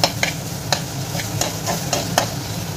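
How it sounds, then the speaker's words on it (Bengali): Chopped chicken is stirred in a pan for chicken bharta, about seven distinct scraping strokes at a steady rhythm over a soft, continuous background sizzle. "তার সাথে এখানে চিকেনগুলো যেগুলো কুচিয়ে রেখেছিলাম সেগুলোও দিয়ে দেবো। দিয়ে ভালোভাবে একটু নেড়ে চেড়ে নেব।"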